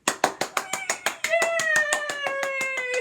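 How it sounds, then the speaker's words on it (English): A round of applause during a children's virtual piano lesson: about a dozen quick, evenly spaced hand claps, close and crisp, then a cheerful voice rises over the last few claps. "give yourself a round of applause"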